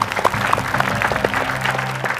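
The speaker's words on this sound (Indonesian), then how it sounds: "tepuk tangan teman-teman untuk Kes dari Lapor" Studio audience and guests at an office anniversary celebration clap together for a guest, a busy patter of many hands over a low tonal hum, with a few sharper claps popping out near the front.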